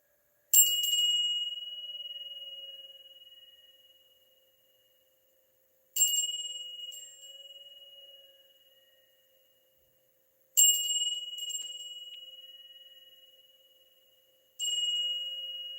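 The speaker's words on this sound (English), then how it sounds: "3 rings of the bell" A single clear bell struck during a spoken meditation session, with four separate rings spaced several seconds apart, each a bright, sustained tone that slowly fades to silence before the next.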